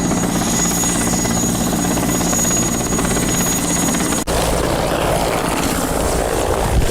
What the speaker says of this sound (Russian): Вертолет садится.